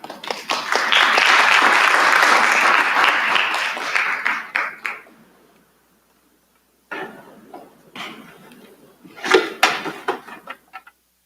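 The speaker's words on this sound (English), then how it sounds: "Give another round of applause to our formers." Dense audience applause at a convocation swells loudly for a few seconds, then fades to silence, followed by scattered claps and a few sharp knocks.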